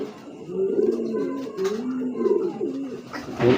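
A female Dutch racing homing pigeon coos steadily nearby, low rolling throaty calls repeating in a soft pulsing rhythm, with no speech over it.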